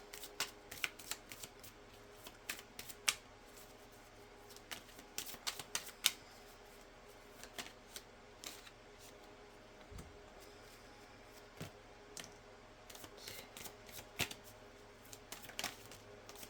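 Dance Like a Divine Diva affirmation cards being shuffled by hand indoors, with close, quiet riffles and soft card slaps in irregular bursts over a faint room hum.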